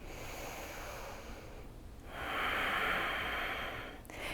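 A single deep yoga inhale, a soft airy breath that swells for about two seconds after a quieter stretch, then fades out, close and alone.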